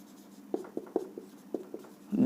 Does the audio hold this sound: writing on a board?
yes